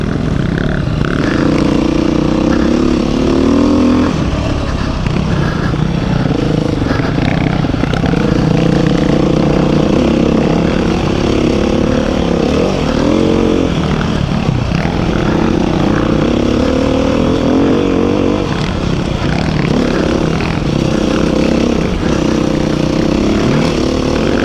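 A 2021 Beta 390 RR dirt bike engine drones and surges continuously on a trail ride, loud and close, its note rising and falling with throttle over about twenty seconds, wind noise mixed in and nobody talking.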